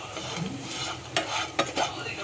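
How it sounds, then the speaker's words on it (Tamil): Potatoes frying slowly in a pan over low heat give a dense, even sizzle with a few quick scrapes of a spatula, heard up close and without voices. "உருளைக்கிழங்கு பார்த்திங்கன்னா நல்லா ஃப்ரை ஆகி நல்லா இன்னும் ஸ்லோவில் வச்சுருக்கிறேன்."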